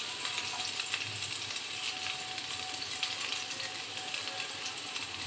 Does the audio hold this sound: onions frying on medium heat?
yes